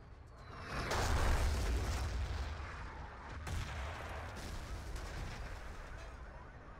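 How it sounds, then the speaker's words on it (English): Artillery shells land in a Battlefield 2 conquest match, a heavy rumbling boom swelling near the start and sustained blasts rolling on through the clip, with a caster talking over the barrage. "Luyet's artillery nails him."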